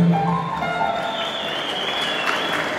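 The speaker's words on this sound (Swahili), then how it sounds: "Makofi tafadhali." An audience applauding at a Form Six graduation ceremony at a Tarime secondary school, a dense burst of clapping from a crowd that holds steadily and loudly throughout, with a faint whistle-like tone above.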